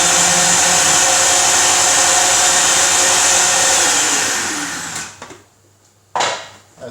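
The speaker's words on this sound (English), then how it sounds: "The reason I'm putting it in a food processor, I want to change the shape of the mince" A food processor whirs loudly, grinding mince for homemade meatballs, for about five seconds before winding down, followed by silence and one short final pulse of the motor.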